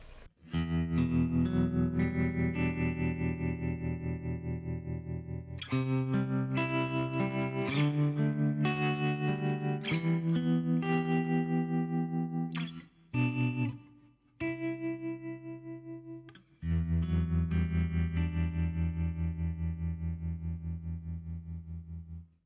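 Overdriven electric guitar strums chords and short riffs through a Tone King Sky King tube amp with attenuation turned fully down, fairly quiet overall, with a few brief pauses between phrases.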